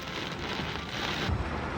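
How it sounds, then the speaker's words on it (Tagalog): Heavy rain pours down in Metro Manila during an evening downpour, a steady broadband hiss running throughout at moderate level with a brief low rumble near the end. "Pasado alas 5, bumuhos ulit ang malakas na pag-ulan."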